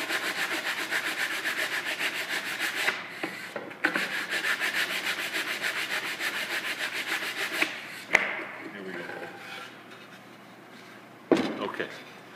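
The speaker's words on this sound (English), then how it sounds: "you're going to sand these things down. Okay, I'll just start the process right now." Hand sanding of wooden plugs with a sanding block, a close, continuous rhythmic scratching rub that pauses briefly a few times between strokes.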